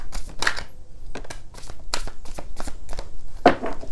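Tarot cards shuffled by hand, a series of short papery riffles and slaps in an uneven rhythm, close up and moderately loud, with no talking.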